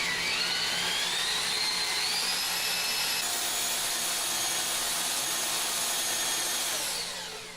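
A high-pitched drill whines steadily up close while drilling metal for a dance pad replica, its pitch climbing slightly as it bites into the hard material, running without pause.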